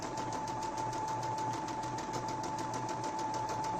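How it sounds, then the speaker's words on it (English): A sewing machine runs a straight stitch along a fabric edge at increased speed, giving a steady, fast rhythmic whir with a constant tone and even needle pulses throughout. "I'll just run straight stitch down the edge of the fabric. I want to increase the speed."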